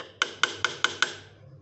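A small hammer taps five times at an even pace on the cutting assembly of a tenoning machine during adjustment. The blows are sharp and close, with nothing else heard.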